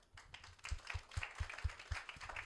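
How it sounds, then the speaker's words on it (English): A small audience claps after a startup pitch, with distinct, fairly quick handclaps forming a sparse rhythmic pattern, close but quiet, lasting a couple of seconds. "Let's give them a big round of applause."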